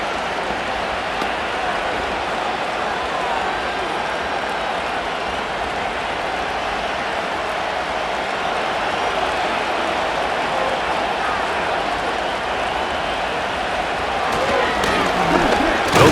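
A stadium crowd in Madden NFL 25 roars as a continuous loud wash of cheering and noise for sixteen seconds, swelling slightly toward the end, with commentary voices layered over it.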